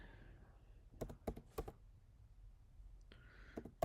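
Router commands typed on a computer keyboard, a quick burst of close, crisp keystrokes followed by a pause, then a few more taps.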